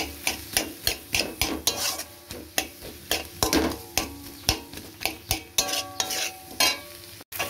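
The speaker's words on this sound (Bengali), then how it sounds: "ডিমটাকেও মশলার সাথে ভালো করে কষিয়ে নেব।" Egg being stirred and fried with spices in a pan, with rhythmic scraping strokes of a spatula about twice a second over a soft sizzle, close and with no talk.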